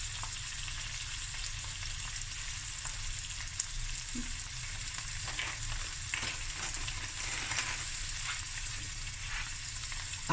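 Peppadew peppers fry steadily in a pan, a soft continuous sizzle with occasional crackles and light stirring, heard alone at a low, even level.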